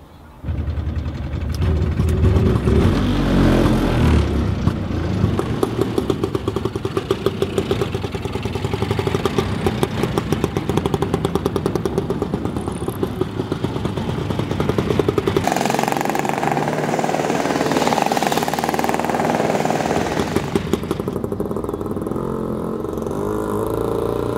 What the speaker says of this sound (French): Ma voiture, c'est une Auto Bianchi Edenrock de 1965.